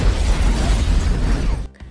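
A hospital blowing up as an explosion sound effect: a loud, dense roaring rumble that holds steady, then cuts off abruptly near the end.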